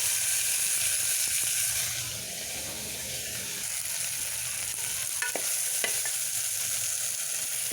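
Tomatoes frying with cauliflower pieces in a pan for a spiced masala, stirred with a steady hiss and a few scraping clicks from the spoon near the end, no voices.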